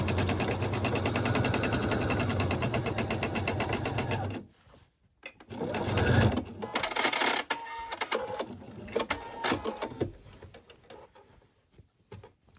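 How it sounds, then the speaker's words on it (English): A sewing machine stitches a horsehair braid hem in a fast, loud, steady mechanical run up close, then stops, followed by quieter handling clatter and brief bursts of stitching. "then you're going to finish sewing right over the top."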